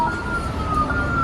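A police siren wails steadily over loud city traffic rumble, its tone holding fairly level through the whole stretch.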